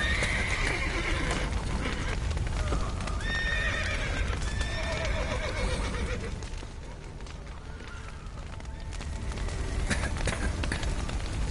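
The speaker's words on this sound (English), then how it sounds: "The horses!" Several horses neigh and whinny with harmonic calls, while hooves clip-clop steadily throughout, fairly close and loud, the activity easing briefly in the middle before picking up again.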